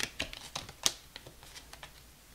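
A deck of tarot cards being shuffled close by, with soft irregular flicks and riffling taps at a low level.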